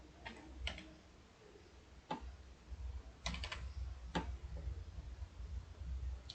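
A movie title goes into a torrent search bar on a computer keyboard, with sparse, separate key clicks spaced a second or so apart over a low hum.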